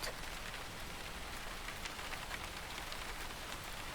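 Light drizzle patters steadily on a surface nearby, a soft, even hiss of fine raindrops without pauses or talk.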